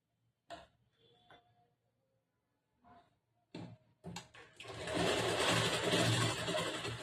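A sewing machine stitching a cross-cut blouse in a tailoring class: a few isolated clicks and short mechanical bursts, then a steady, loud, close whir of continuous stitching for the last few seconds.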